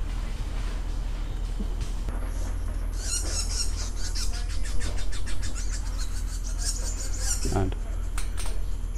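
A person imitates woodpecker calls with a run of quick, high, repeated chirping bursts over steady outdoor background noise, with a brief word spoken.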